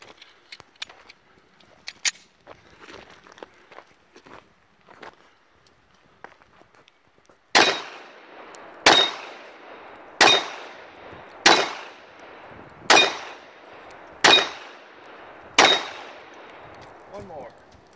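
A Rock Island Armory 1911A1 GI-model .45 pistol fires seven loud, sharp shots at an even pace, each with a short ringing tail. Faint clicks and handling noises come before the string.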